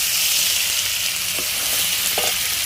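Vegetables stir-frying in a pan at lunchtime cook, a steady close sizzle filling the whole stretch with a couple of faint scraping stirs and no talk.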